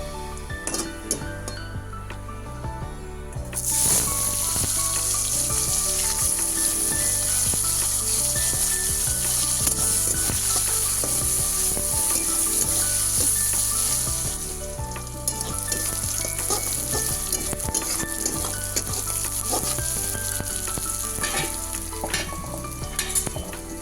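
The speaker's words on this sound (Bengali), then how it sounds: "এখন পেঁয়াজ আর টমেটোটা দিয়ে দেবো" Onion and tomato sizzle loudly in hot oil with whole garam masala, cumin and bay leaf, a steady close frying hiss after a brief quieter start, with occasional stirring clinks and no talk.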